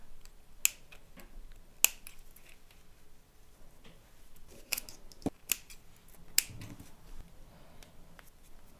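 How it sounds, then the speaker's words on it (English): Small scissors snip a crochet thread on a beaded coin purse, giving a few sharp, close clicks spread across the quiet, with faint handling rustle between them. "And cut a thread."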